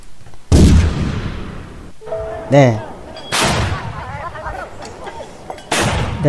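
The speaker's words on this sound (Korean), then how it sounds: "실전처럼 움직이는 대포 소리를 볼 수 있겠습니다" Cannon shots in a homemade C++ MFC cannon game, several loud booming blasts a second or so apart, one with a rising whistling tone as the shell flies.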